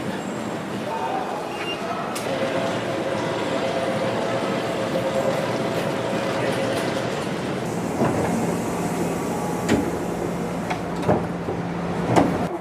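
A Tokyu Den-en-toshi Line train in Tokyo rumbles along with steady running noise and occasional clicks and clunks from the cars, sounding like riding inside a carriage.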